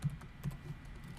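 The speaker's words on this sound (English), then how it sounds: "I'm going to go ahead and explicitly type" Soft, quick keystrokes on a computer keyboard while code is entered, a few light taps in an irregular rhythm, close and fairly quiet, with no voices.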